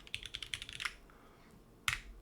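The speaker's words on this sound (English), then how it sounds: "That's the keyboard." Fingers type on a mechanical computer keyboard: a quick run of crisp, close clacks, then a pause and one sharp final keystroke, with no voices.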